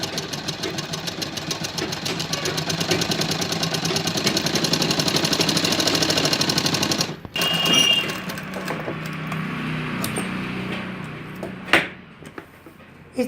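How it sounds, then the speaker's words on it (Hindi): A sewing machine stitches a sleeve with a steady, fast mechanical rattle that runs for several seconds, then stops. Softer clicks and handling sounds follow. "अब एक बार फिर से हमें इसको ओटना है और फिनिशिंग से सिलाई लगानी है।"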